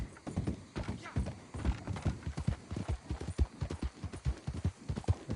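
Horse hooves gallop in rapid, continuous clip-clop in Red Dead Redemption 2, close and steady throughout, with faint snorting and a muffled voice in the mix.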